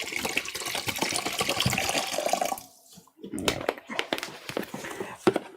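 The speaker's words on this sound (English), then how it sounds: "I bring out bottles of water out here and then I just end up filling them up filling up the water bottle" Water runs steadily into a water bottle, a continuous rushing pour for a couple of seconds that stops briefly and then resumes in uneven splashing spurts, close and fairly loud.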